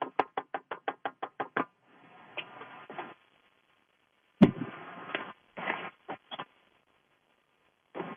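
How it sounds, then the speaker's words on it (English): A rapid run of about nine sharp knocks on a door, then scattered thumps, rustling and a louder bang, all close with quiet gaps between. "Just knock on the door."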